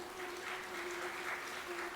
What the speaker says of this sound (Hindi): एक प्रभु जी ने बड़ी अच्छी ताली बजाई है, एक पुरुष ताली बजा रहे